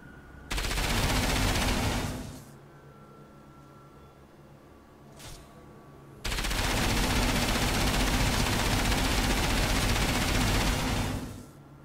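A weapon firing in Enslaved: Odyssey to the West: two long bursts of rapid automatic fire, the first about two seconds and the second over five, split by a quiet gap with one brief shot.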